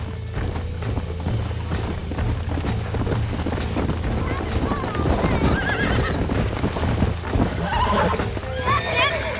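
Rhythmic horse hooves clip-clop close by during lasso roping in Red Dead Redemption, with whinnies and neighs rising near the end over steady low rumble and someone talking.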